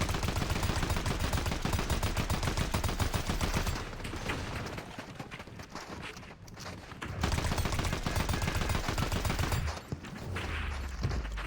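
Rapid gunfire in the video game Fortnite, shotgun and automatic weapons firing in dense bursts that continue with only a short dip in intensity, loud and close, with no talking.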